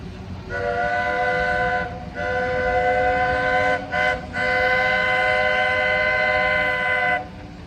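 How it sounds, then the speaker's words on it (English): Walt Disney World Railroad steam locomotive No. 4 Roy O. Disney sounds a loud chord whistle in long blasts, one brief break and a double short gap, over a rumbling train ride. "Thanks for the train ride."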